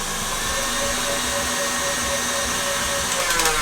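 An electric mixer whisks egg yolk, sugar and softened butter for macarons, a steady close motor whir with a constant tone and no speech.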